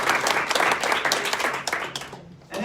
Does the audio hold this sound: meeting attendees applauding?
yes